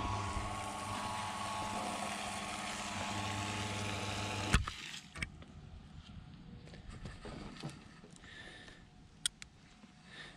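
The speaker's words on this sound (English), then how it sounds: "I kind of made a little sump pump over here, which it is now sucking air, so we'll shut that down." A makeshift sump pump in a drain pit sucking air, a loud steady droning motor with a gurgling rattle that cuts off abruptly, followed by faint clicks and knocks.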